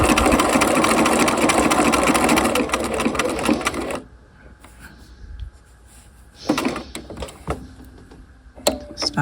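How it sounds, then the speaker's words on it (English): A sewing machine stitches across narrow piping on a half-scale jacket bound buttonhole, running loud and steady for about four seconds, then stopping, followed by quieter handling noises and a brief second burst of stitching. "So I'm going to sew right across."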